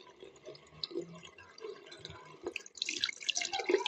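Water trickles and drips from a tap, a faint, close run of small plops and splashes that thickens into a brighter, busier trickle near the end.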